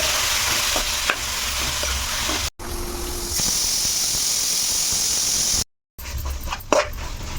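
Ridge gourd peels and tomatoes with turmeric and salt cooking in a pan, a steady loud sizzle and hiss with occasional stirring scrapes, briefly cut off twice.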